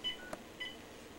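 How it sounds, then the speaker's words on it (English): A mobile phone being dialed gives two short, faint electronic keypad beeps about half a second apart, with a soft click between them in a quiet room. "Wait, I'll call Sarah's cell phone."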